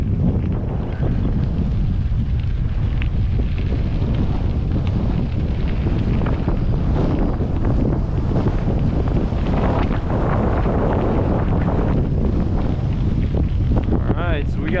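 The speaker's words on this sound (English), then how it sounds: "We got a big crosswind" Strong crosswind buffets the microphone while cycling the Grava Del Fuego gravel route, a loud continuous low roar and rumble that lasts throughout with no clear voice.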